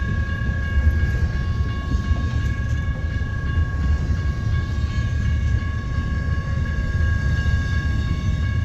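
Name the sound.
passing eastbound train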